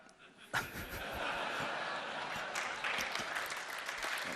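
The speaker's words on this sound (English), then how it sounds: "the audience gives him a standing ovation" Applause from a TED talk audience during a standing ovation, a dense steady wash of clapping that swells in sharply after a brief quieter start and holds loud to the end.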